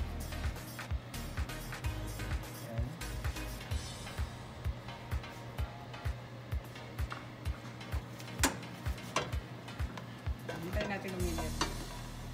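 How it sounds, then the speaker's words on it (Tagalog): Garlic fries in hot cooking oil for Bicol Express, a soft steady sizzle broken by frequent close scraping ticks of stirring, no one talking. "Mainit na ang ating mantika. So, lalagay muna natin yung bawang."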